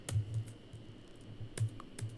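Quick keystrokes on a computer keyboard, tapped out close up in short bursts of sharp clicks with brief pauses, without any talking.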